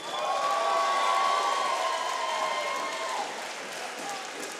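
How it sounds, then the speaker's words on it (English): A crowd at a Texas Muay Thai championship applauding and cheering after a fight, a sustained roar of clapping and shouts with a voice cutting through, slowly fading toward the end. "Give it up for these two men."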